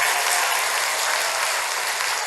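Loud, steady applause from an audience clapping hard for themselves at a Buddhist dharma talk closing the Baekjung memorial service, dense and continuous throughout with no talking.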